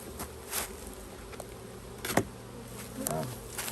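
Honeybees at a hive in Western Michigan during a swarm cell check buzz faintly over a quiet background, with a few louder passes as single bees fly close by.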